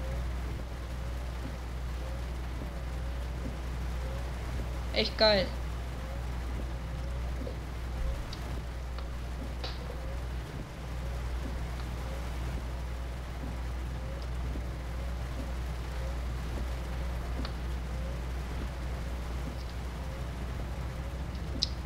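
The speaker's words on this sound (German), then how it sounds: "Also es fühlt sich an, wie wenn man echt jetzt in dem LKW sitzt und es die ganze Zeit regnet." Steady rain drums on a truck in Euro Truck Simulator 2, a constant wash over low engine rumble, with a brief spoken remark partway through.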